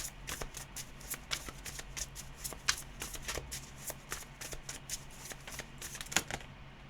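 A deck of tarot cards shuffled up close for another draw, producing a dense, continuous stream of papery riffles and snaps for several seconds without speech.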